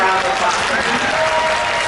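Audience applause at a live talk event with a married actor couple on stage, dense and steady clapping filling the whole stretch at close, loud level with no voices on top.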